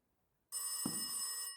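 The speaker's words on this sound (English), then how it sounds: "Oh! The phone's ringing." A telephone rings in the horror game Rise of Insanity VR, a sudden bright, sustained electronic bell ring that starts abruptly after silence, with a soft thud partway through.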